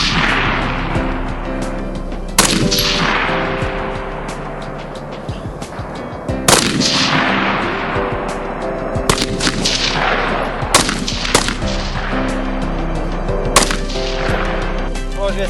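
Soldiers fire weapons in loud, close bursts of gunfire that crack and echo, several separate volleys spaced a few seconds apart over a steady rumbling background.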